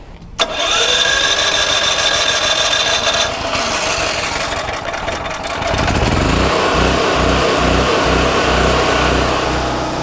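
A 4,500-watt portable RV generator running on gasoline starts up and settles into a loud, steady engine drone with a constant hum, close by and with no talking over it.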